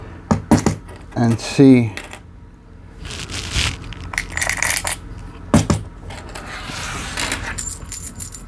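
Stacks of gold coins tumbling into a container, with clustered metallic clinks and jingling bursts, close and loud, and a few brief spoken words between the drops.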